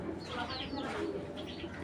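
Soft, low cooing from club racing pigeons, Tiger Grizzle among them, a few gentle warbling calls close by, ending with a sudden louder bump.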